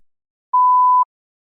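A single clean electronic beep from a TOEFL practice test marks the start of the response preparation time. The steady tone lasts about half a second and sounds alone against complete silence.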